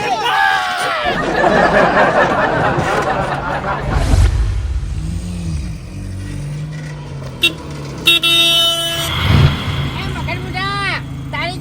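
A car horn honks amid a Gujarati comedy scene, with bursts around the middle and later in the clip, mixed with people talking and a passing vehicle engine.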